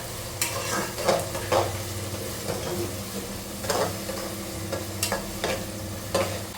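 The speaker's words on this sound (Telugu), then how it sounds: "బ్రౌన్ కలర్లో వచ్చేదాకా ఫ్రై చేసుకోండి." Onions for mutton curry sizzle steadily in a pan, broken by several scraping stirs of a utensil against the metal at irregular intervals, close and fairly quiet with no talking.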